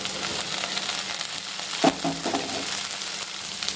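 Garlic and onion sizzle in a pan for a garlic curry, a loud, steady frying hiss broken by a brief clatter of stirring partway through, with no talking.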